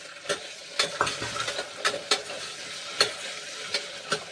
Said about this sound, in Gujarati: પછી આપણે ચણા અને ચણા અને બટેટા નાખી દઈશું